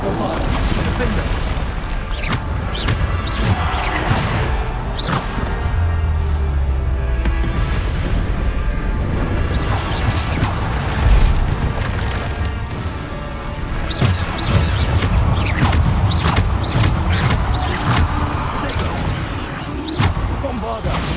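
Repeated spell blasts and crashes in the Hogwarts Legacy game, a run of heavy booms and smashing impacts in irregular bursts, with voices calling out over the combat.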